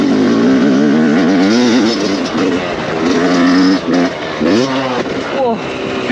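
Modified 125cc motorcycle engine revving hard under throttle during a test ride, a loud close rising and falling whine with rapid pitch sweeps, strong and continuous, with speech nearby.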